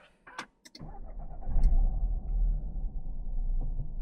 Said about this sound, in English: Now let's start the car and